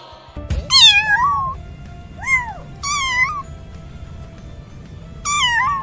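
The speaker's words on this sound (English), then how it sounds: "C for cat." A cat meows four times, clear and close, with long drawn-out cries separated by short pauses and no speech.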